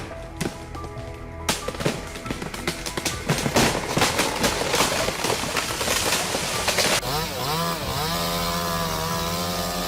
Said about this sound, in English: The sound of chainsaws roars.